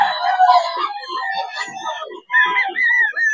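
Young Cuban grey game fowl stags crowing loudly and close by, several long overlapping crows running back to back with only a brief gap, in an outdoor pen.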